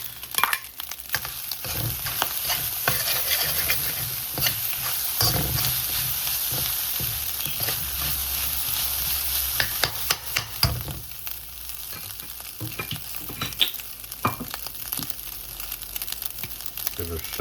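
Vegetables stir-fried with hot rice in a pan make a loud, constant sizzle under repeated scraping and tossing strokes of a utensil, with brief bursts of louder crackle throughout.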